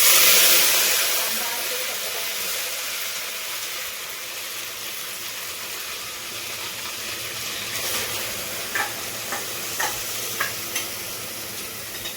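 Spice masala hits hot oil for mutton rasa, bursting into a loud broadband sizzle that settles into a steady hiss, with a few soft stirring taps near the end.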